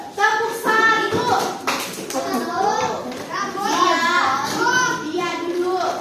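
Schoolchildren in a classroom chatter and call out over scattered hand claps and taps, lively and close.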